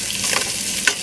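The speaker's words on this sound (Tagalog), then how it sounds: "So, sasangkotsahin muna natin siya." Meat seasoned with salt and plenty of black pepper is sautéed in a pan, a brief close sizzle with scraping stirs and a sharper scrape near the end.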